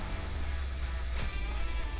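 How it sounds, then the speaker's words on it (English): SoRite DECON decontamination solution is sprayed onto a towelette in a steady, close hiss that cuts off partway through. "You want to apply 2 ounces of SoRite DECON directly to the powder under the towelette."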